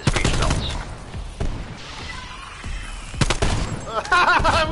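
Video game gunfire crackles in a survival shooter, with several sharp shots and bursts scattered across the moment over busy background game sounds.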